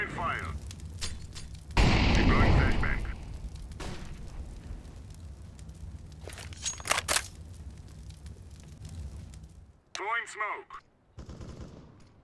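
Counter-Strike: Global Offensive gameplay carries bursts of gunfire and a heavy explosive blast, with shorter game effects after it, while players talk over the action.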